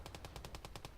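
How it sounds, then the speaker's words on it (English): Rapid machine gun bursts in the video game MACE, about nine evenly spaced sharp reports in quick succession, loud and close with no voices. "we can actually kill the crew with their own machine gun"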